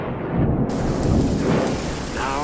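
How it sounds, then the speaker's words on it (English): Cartoon-style sound effect of a rainy night thunderstorm: steady, loud rain with a deep rolling rumble of thunder running throughout. "Now the very blustery night turned into a very rainy night, and Pooh kept his lonely vigil"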